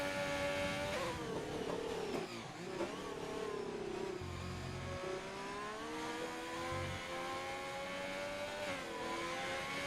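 Race car in a racing video game on a wet track, engine note rising and falling continuously as it revs and bogs through corners, fairly close and steady for the whole stretch.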